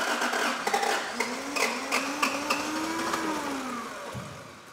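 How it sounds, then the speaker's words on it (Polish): An old car engine, left unstarted for twenty years, cranks and sputters roughly with only some cylinders firing on low compression, a wavering drone broken by uneven knocks that fades out at the end. "No nie jest to ładny dźwięk silnika"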